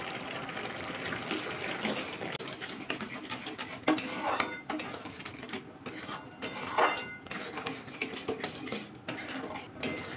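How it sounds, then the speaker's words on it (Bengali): A milk mixture for kalakand being stirred nonstop in a pan with sugar added, giving steady scraping and clinking of a utensil against metal over a constant bubbling hiss, with no one talking. "দেখুন অনবরত কিন্তু আমি নাড়াচাড়া করছি।"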